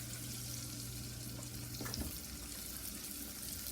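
Carrots sizzle in melted butter in a pan on the stove, a steady close frying hiss with a brief stir or clink partway through and no voices.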